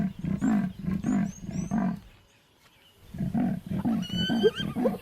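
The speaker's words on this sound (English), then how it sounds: "He calls her, hoping that she hasn't gone far." A male lion in the African wild calls with low, rasping grunts, a rhythmic series of deep pulses, then a pause, then another run of grunts, close and loud, with faint birdsong behind.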